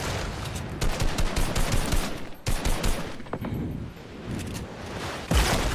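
Rapid bursts of gunfire in the video game Fortnite, dense clustered shots and sharp cracks over a busy background, with brief gaps between volleys.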